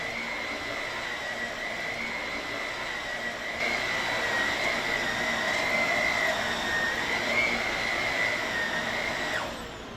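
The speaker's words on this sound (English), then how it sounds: "Man, that vacuum really sucks" A vacuum cleaner runs steadily throughout with a whining hum, growing louder partway through and cutting off near the end, with no talking over it.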